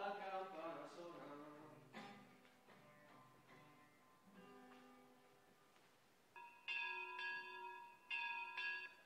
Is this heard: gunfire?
no